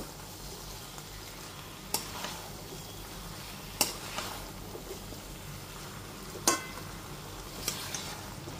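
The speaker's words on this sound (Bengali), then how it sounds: "ঘিটা দিয়েও খুব ভালো মতো মিশিয়ে নেব।" Ghee being stirred into a pan of labra, a Bengali mixed-vegetable curry, over a gas flame, giving a constant low bubbling sizzle with a few isolated sharp clinks of a utensil on the pan, close and without talk.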